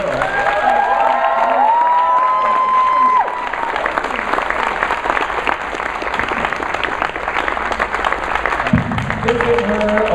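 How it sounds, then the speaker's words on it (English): Audience applause and cheering for actress Pat Carroll at a fan convention, loud and sustained throughout, a dense steady clatter of many hands with scattered shouts and whistles rising over it. "I think this is a perfect place to applaud for Miss Pat Carroll."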